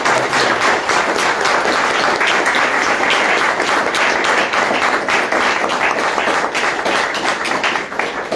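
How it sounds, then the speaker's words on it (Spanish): A crowd at a talk on the Popol Vuh, arts and literature gives a loud, sustained round of applause, dense and continuous for over eight seconds. "pedirles por favor un fuerte aplauso"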